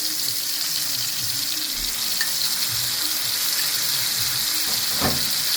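Leftover prawn masala frying in a pan, a steady close sizzle with occasional faint clinks, continuous and fairly loud with no talking.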